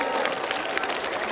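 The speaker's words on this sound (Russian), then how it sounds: "Аплодисменты." Applause from an audience at a Moscow awards ceremony, a dense, even patter of many hands clapping together throughout the short stretch.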